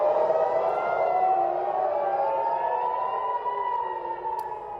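Air raid warning sirens in Israel sound for incoming missiles, a loud sustained wailing tone that slowly rises and falls, heard alone.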